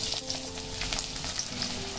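Small shallots sizzle loudly in hot oil with popped mustard seeds for Kumbakonam brinjal gotsu, a dense continuous crackle with a faint steady hum underneath, no voices.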